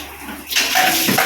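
Water bursts on from a shower in an army quarters bathroom, starting halfway through as a steady, close, rushing hiss that sounds alone with no voices.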